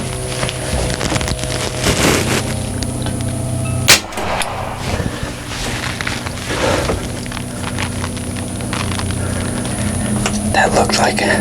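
An air rifle fires at a doe during a Texas buck hunt, a single sharp crack standing out against outdoor wind and rustle, with someone speaking quietly before and after the shot.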